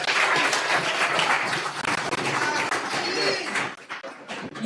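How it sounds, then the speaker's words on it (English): Audience applause at a town hall address, a sustained dense patter of many hands clapping at moderate loudness, tapering slightly toward the end with a few louder claps. "Please give Mr. Mark Golding another round of applause"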